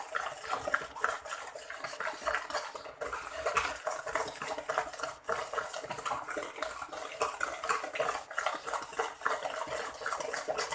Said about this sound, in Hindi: और साथ साथ हम इसको मिक्स करते जाएंगे।